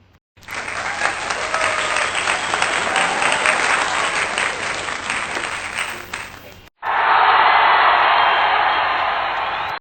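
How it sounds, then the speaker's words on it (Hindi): Loud, sustained audience applause fills a school assembly hall, cuts off briefly near the end, then returns as a dense burst of clapping. "तालियां बजाइए"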